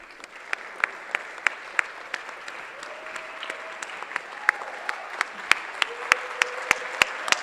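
An audience at a scholars' recognition ceremony claps steadily, a close, moderately loud patter of many hands with a few sharp individual claps standing out above the rest.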